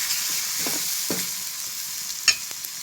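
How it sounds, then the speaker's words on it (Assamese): Ground ginger-garlic paste hits hot oil already holding whole cumin, cloves, cardamom and cinnamon for an egg masala gravy, producing a constant crackling sizzle broken by a few soft scrapes of stirring. "এতিয়া মই ইয়াত পিছি থোৱা আদা নহৰুখিনি দি দিলো"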